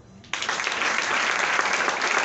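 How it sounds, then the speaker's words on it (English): A church congregation bursts into steady clapping that starts abruptly and holds dense and even throughout. "Let's clap"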